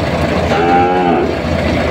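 Cattle at a livestock auction market in Lucena, where cattle and carabao are sold, moo loudly and close by in one drawn-out low call over a busy, noisy market background.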